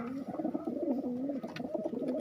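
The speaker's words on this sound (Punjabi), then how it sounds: "ਇਹਨੇ ਵੀ ਤਾਰੀ ਦੇ ਘਰੋਂ ਕਬੂਤਰ ਲਿਆ ਸੀ" Pigeons coo close by in soft, rolling, low murmurs that overlap continuously, with faint rustling in the background.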